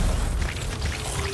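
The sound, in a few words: explosion from melee attack in video game Anthem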